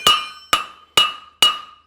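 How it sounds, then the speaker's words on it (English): A farrier's hammer strikes a hot horseshoe on the anvil with its round face, five sharp ringing blows spaced about half a second apart, each decaying before the next, with no talk. "I'll put the round of my hammer into it"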